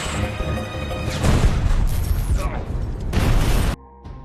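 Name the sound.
gunshot hitting oil drum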